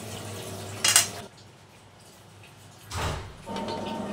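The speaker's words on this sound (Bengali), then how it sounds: "এই যে দেখো ঢাকা দিয়ে দিলাম, আর কিছুক্ষণ পরে সেই ঢাকনাটা আবার এই যে আমি তুলে নিলাম।" A metal lid clanks onto a pot of simmering papaya curry, then after a pause is lifted off with a second scrape and clatter; both knocks are close and brief against a quiet kitchen background.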